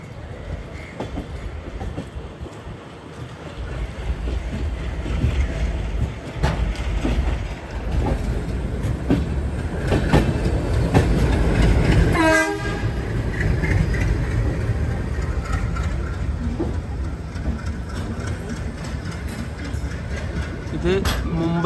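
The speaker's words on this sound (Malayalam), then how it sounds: "11 മണി ട്രെയിൻ ഇപ്പോൾ മംഗളൂരു സെൻട്രലിലേക്ക് ഇതെത്തുകയാണ്." A passenger train rolling into Mangaluru Central station, with a loud, sustained rumble and rattle of wagons over the rails throughout, a brief horn-like tone midway, and someone talking over the noise.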